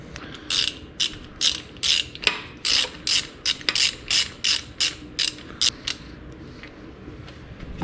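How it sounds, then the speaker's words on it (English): A hand ratchet tightens bolts on the transmission of an International Harvester 1066 tractor, giving about fifteen loud, evenly spaced clicking strokes close by, then trailing off, with no talk. "let's go ahead and throw some bolts in it and bolt it down"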